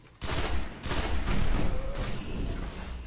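A grenade going off in the video game Destiny, a loud sudden boom followed by a sustained roar of blasts and gunfire rumbling for several seconds.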